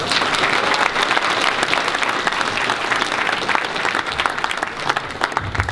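A game trivia crowd at a gaming convention breaks into applause, loud, continuous clapping from many people that stays even throughout and thins slightly toward the end.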